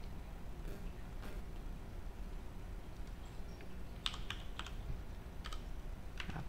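Typing on a computer keyboard while working in After Effects: quiet, scattered key taps early, then a brisk cluster of crisp clicks near the end over a soft background hiss.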